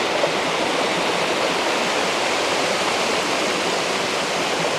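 A waterfall in Alberta pours steadily, a dense continuous rushing roar, close and loud, with no pauses or other sounds over it.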